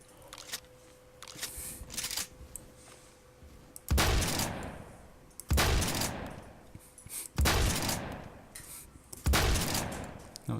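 Remington shotgun shots in a video game, four loud, evenly spaced blasts about every two seconds, each with a sharp attack and trailing decay over a low background hum.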